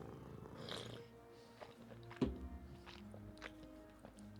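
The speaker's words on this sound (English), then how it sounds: "That's very loud purring. That's a good noise." A video game cat purring loudly and steadily, a low rumbling drone with a few soft clicks and one brief thump partway through, heard up close on its own.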